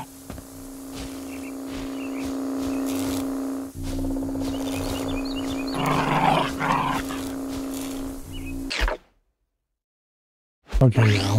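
A dog in the survival video game Dysmantle makes growling, whimpering sounds over a steady droning game-world hum, fairly close, with a brief dropout into silence near the end.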